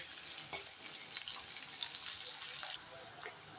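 Small onions with rock salt sautéing in a pan for an egg curry: a steady, soft sizzle with faint stirring clicks, continuous and fairly quiet, dropping slightly near the end.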